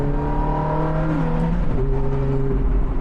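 A Honda Type R's engine holds a steady, loud, smooth drone with tones that shift as it is revved, with no voices over it.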